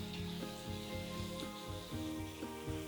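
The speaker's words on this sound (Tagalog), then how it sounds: "And I will also now add my cabbage." Soaked cabbage and shrimp stir-fry in a pan, a quiet, continuous close sizzle overlaid by a repeating rhythmic tonal pattern, with no voices.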